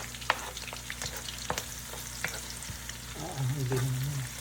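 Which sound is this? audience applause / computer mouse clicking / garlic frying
garlic frying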